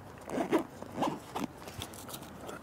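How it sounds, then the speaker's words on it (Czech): A side zipper on a Mivardi New Dynasty fishing unhooking mat is pulled open in several short rasping strokes, close and fairly quiet, with no speech. "když ty zipy na obou dvou stranách rozepnete, tak podložku zbalíte pro snadnější transport"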